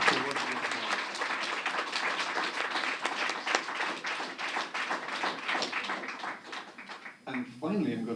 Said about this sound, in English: can we give our kids from Cork a quick round of applause.